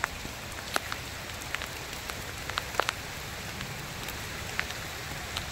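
Steady rain falling, a soft constant hiss with scattered light drops and ticks, fairly close and moderately quiet, with no talk.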